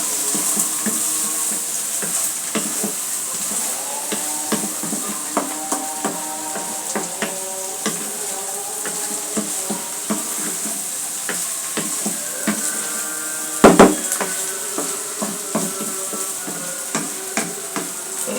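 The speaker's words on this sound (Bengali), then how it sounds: "করলা ভাজিটা হয়ে গেছে মোটামুটি, নেড়ে ছেড়ে নামিয়ে দেবো।" Bitter gourd fried with egg is stirred in a pan, giving a soft continuous sizzle under repeated rhythmic scrapes and taps of the utensil against the pan, with one louder clank near the end.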